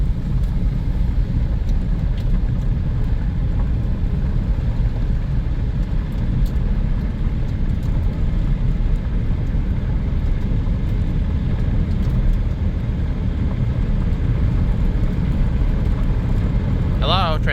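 The engine of a 1993 Plymouth Grand Voyager SE, revived after 18 years abandoned, runs with a continuous close low rumble that holds steady throughout, with faint light ticking above it.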